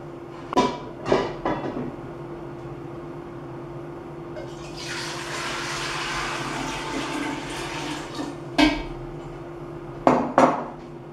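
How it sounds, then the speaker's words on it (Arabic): A metal cooking pot being filled with water for boiling rice makes sharp clanks and knocks near the start and end, with a stretch of running water in the middle, all close by in a kitchen. "المقفول اللي صبيت فيه الماء باش نحطه على النار حتى يغلي"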